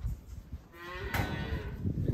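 Cows that serve as embryo-transfer recipients moo on a cattle farm, giving a low drawn-out call at moderate distance over rustling outdoor background noise.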